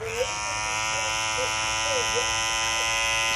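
A loud cordless Andis hair clipper runs at a barbershop station, giving off a steady, close, high-pitched electric buzz that holds unbroken throughout.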